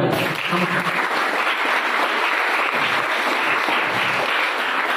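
Sustained, dense audience applause fills a school function honoring teachers and stage guests, a steady loud clapping wash with no break.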